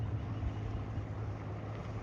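A 1951 18-foot Penn Yan President motorboat with a freshly rebuilt engine runs on Lake Champlain, giving a steady low droning rumble mixed with wind and water noise, close and continuous.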